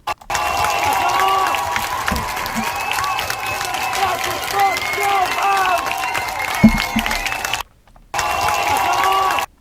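A street crowd cheers and applauds as Home Office enforcement officers are escorted away by police, a sustained roar of clapping and shouting that cuts out briefly near the end before resuming.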